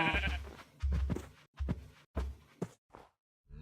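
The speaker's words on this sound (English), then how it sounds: "You're not welcome, sheep. I've got enough sheep." Sheep in the game Minecraft bleat in a handful of short, close calls separated by brief pauses, with no talk over them.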